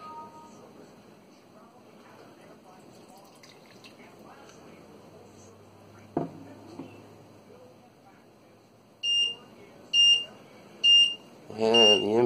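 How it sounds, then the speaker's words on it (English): An ESP8266 leak detector alarm sounds during a simulated flood, starting with soft dripping and handling noises, then sharp, loud electronic beeps repeating at roughly one-second intervals near the end. "And to cancel the alarm once you've seen it"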